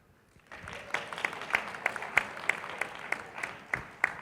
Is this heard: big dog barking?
no